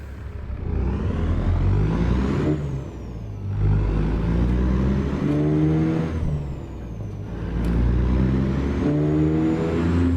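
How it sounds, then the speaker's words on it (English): A truck in American Truck Simulator, fitted with an engine sound mod, revs up in repeated climbing runs, its deep drone rising in pitch before each gear change. The engine is loud and close, with no talk over it. "Slav Jerry really knocked it out of the park with this engine. It is fantastic"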